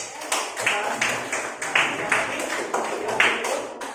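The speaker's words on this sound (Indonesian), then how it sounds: "kita beri tepuk tangan untuk kelompok" A small classroom group claps in uneven rhythmic bursts for a presenting group, the close individual hand claps rising and falling in waves.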